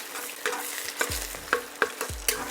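An egg frying in a pan on the highest heat for an instant ramen stir fry, a steady crackling sizzle punctuated by several sharp clacks of a utensil against the pan.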